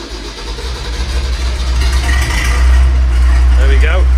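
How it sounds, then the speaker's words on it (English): Last-ever David Brown tractor engine cold-starting indoors, a loud, steady low diesel rumble that builds and settles into a rough idle, with people talking over it. "last ever David Brown cold start"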